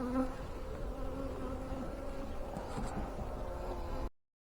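Honey bees buzz at an opened hive during an inspection, a dense, steady, close hum of many insects that holds evenly for about four seconds and then cuts off abruptly.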